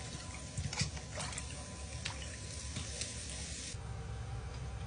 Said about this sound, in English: For the second recipe, I need to rinse the potato.